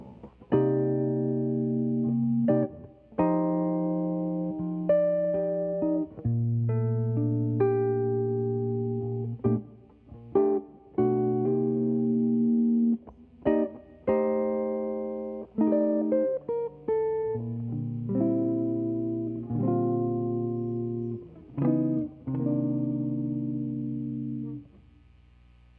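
A slow ballad-tempo jazz guitar plays a 2-5-1 progression, sustained chords ringing one after another with occasional single notes, clean and close with no voices.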